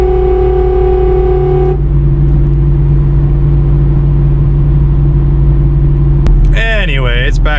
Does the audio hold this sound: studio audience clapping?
no